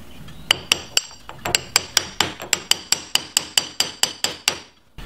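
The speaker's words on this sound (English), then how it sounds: "we'll bring our jam nut around. So I'll tap that, get it in place" A hammer taps a jam nut on a rebuilt steering gear box, striking in a steady run of about seventeen sharp metallic blows with a clear ringing edge, close and loud, with no talking.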